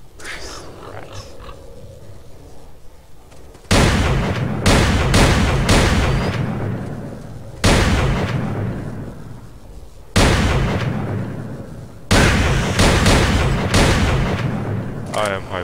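Loud gunfire bursts in the shooter game STALKER, several sharp reports and short volleys in two clusters after a quieter stretch, each decaying with a rumbling tail.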